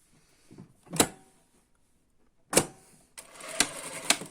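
A sewing machine stitches a skirt side seam 1 cm from the edge: a couple of isolated clicks, then a short steady mechanical whir of running stitches close by.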